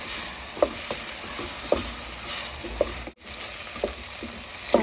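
Two onions sautéing in a pan, a steady close hiss and sizzle broken by several soft stirring scrapes at irregular intervals and one brief dropout, with no voices.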